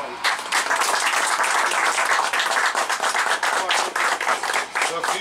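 Lively applause at a fishing competition awards gathering by a lake, many hands clapping loudly and continuously for several seconds at close range.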